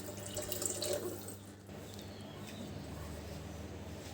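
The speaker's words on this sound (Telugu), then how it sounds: "ఆ వాటరే యాడ్ చేస్తాను ఇందులో" Rice-soaking water being poured into a cooking pot while making biryani, a soft, brief splashing pour in the first second and a half, followed by quiet kitchen room tone.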